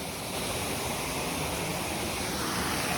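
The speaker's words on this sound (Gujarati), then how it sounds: "બાકી પાણીનો અવાજ જ એટલો આવે છે." A mountain stream near Girnar rushes steadily, a loud, dense and unbroken roar of water close by with no voices over it.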